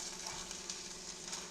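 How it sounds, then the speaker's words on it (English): Beans being stirred into a warm hamburger and onion mixture in a pot for bean dip, a soft continuous sizzle with faint rhythmic scraping of the spoon, quiet and without speech. "So I'll stir these beans into the hamburger mixture here with the onion."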